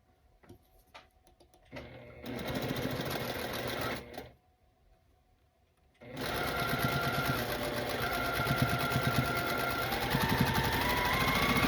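A sewing machine runs in two steady bursts as it stitches quilt block seams, with a brief pause between them and a few faint clicks and handling sounds before it starts.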